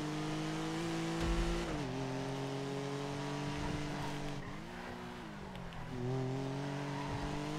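A car drives through GTA RP, its engine droning steadily with harmonic tones that rise and fall as it shifts and accelerates, loud and continuous with no talk over it.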